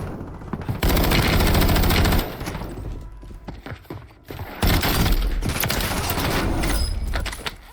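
Warzone game gunfire cracks out in loud, dense automatic bursts: one long fusillade, a short lull of scattered shots, then another sustained burst to the end.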